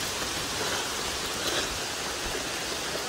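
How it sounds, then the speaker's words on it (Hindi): Heavy monsoon rain at Alkudar waterfall in Mayurbhanj, Odisha: a dense, steady roar of falling water that holds evenly throughout, with no voices. "बहुत जोर वर्षा हो भाई"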